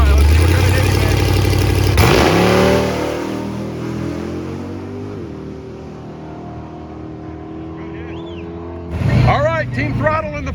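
A drag race car at Dodge's 2023 Roadkill Nights making a solo pass, a loud engine roar that surges, then fades as it pulls away down the strip, with an announcer's voice talking over much of it.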